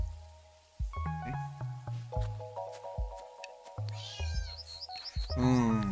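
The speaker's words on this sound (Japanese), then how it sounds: "お腹を空かせた子猫ちゃん" A hungry kitten in the video game Dordogne lets out thin, high meows near the end, following a string of soft plucked musical tones and gentle drips, with the cries close and clear.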